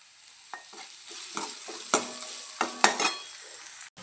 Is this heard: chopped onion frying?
yes